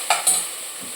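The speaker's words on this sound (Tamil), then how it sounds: "போட்டு நல்லா வதக்கணும். பச்சை மிளகா போட்டுக்கிறேன்," Tomato with ginger garlic paste and green chilli sautéed in a pan gives a short burst of stirring scrapes over a steady faint sizzle, with two quick strokes near the start, and no voices.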